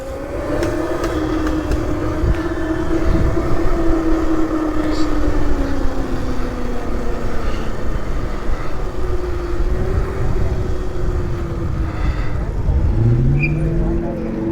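An ETM RTR 72v electric pit bike rides away at an outdoor rideout, its motor giving a steady whine that shifts in pitch under continuous loud background noise.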